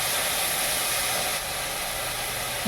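Chili paste fries in a pan, giving a steady, even sizzling hiss throughout with no one talking.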